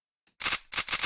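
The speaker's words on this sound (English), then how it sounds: "Shotgun." Shotgun blasts from a weapon in a first- and third-person shooter under development, two or three loud, sharp bursts in quick succession after a faint click, with no talk.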